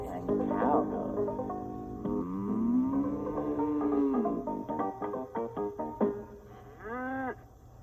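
A cow moo played from a vintage 1986 Ideal Big Bird Story Magic Sesame Street cassette player, sounding tinny and electronic, with a long drawn-out low tone, musical notes and short bursts of recorded sound.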